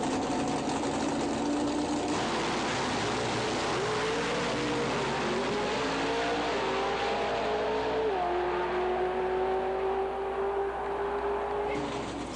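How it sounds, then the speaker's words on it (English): A Camaro drag racing car launches off the line with heavy vibration, its engine revving through rising and shifting tones in a loud, sustained roar that holds steady throughout. "Steve Bascolino Motorsports Camaro with some volatile vibration off the line."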